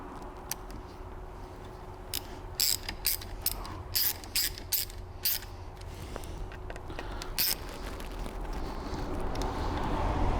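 A ratchet wrench screwing a part into the rear brake assembly of a Toyota Hilux, about a dozen crisp clicking strokes in a steady rhythm, close up, against a low mechanical hum with no talk.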